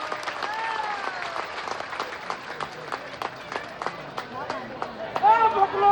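Audience applause greets a guest at a Bihar Diwas cultural programme in Mumbai, scattered claps heard under a voice speaking over a microphone, with the clapping swelling toward the end.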